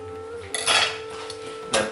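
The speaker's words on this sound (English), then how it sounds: "So just prick it with a knife or a fork, whatever you've got that's pointy." An aubergine pricked with a knife or fork on a kitchen surface, giving two short, sharp metallic taps and scrapes close by, separated by a quiet pause.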